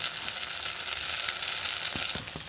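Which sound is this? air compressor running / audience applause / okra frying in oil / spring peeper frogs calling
okra frying in oil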